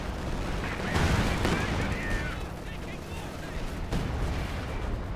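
Artillery barrage in a competitive World War strategy game, continuous rumbling explosions and gunfire crackle layered together with a sharp burst near the start and another later, heard under a commentator's talk.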